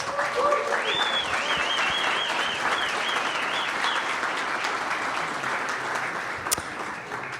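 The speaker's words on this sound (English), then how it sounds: "Round of applause for our students." A room full of people at a Demo Day event claps for the SciStarters Cohort 11 students. The applause is sustained and even, with a single sharper clap standing out near the end.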